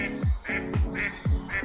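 Several loud, nasal duck quacks repeat in a quick, regular sequence close by in a woodland pond setting, with no talk over them.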